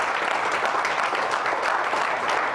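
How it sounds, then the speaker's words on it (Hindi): A training-session audience applauding loudly and steadily, a dense, even wash of many hands clapping with no pauses. "मैं चाहूंगा एक बार जोरदार तालियां अपने लिए बजाइए।"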